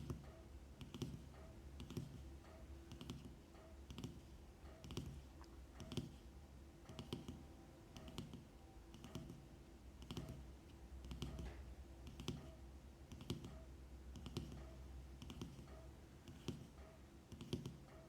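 Soft, close ASMR taps on wood, leather and Pixel Buds earbuds come in a steady, fairly even rhythm, a crisp light click roughly every second against a quiet background, with no talking.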